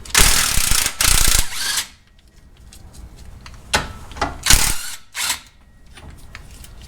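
Impact wrench zipping off sway bar bushing clamshell bolts on a Jeep XJ, several loud mechanical bursts of a few seconds each with quieter ratcheting bits between them, nearby and with no talk.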